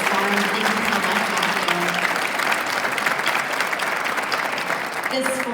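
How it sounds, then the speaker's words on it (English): Sustained applause from a forum audience fills the whole stretch, dense and steady, with a faint voice or tone briefly audible underneath near the start and again at the end. "please let's give a big round of applause to Matthew Ruffi for moderating today's forum"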